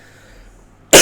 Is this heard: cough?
yes